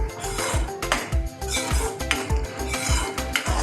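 A spoon stirs a whole-onion curry in a metal pot, Kathiawadi village style, with steady rhythmic scraping and clinking about twice a second, under a soft sizzle of frying.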